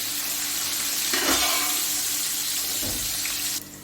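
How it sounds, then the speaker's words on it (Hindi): Ginger and garlic fry with browned onions in a pot for beef Afghani pulao, giving a loud, steady sizzle broken by two brief bursts of stirring near the start and middle. "अब मैं अदरक लहसुन डालूंगी। थोड़ा सा फ्राई करूंगी।"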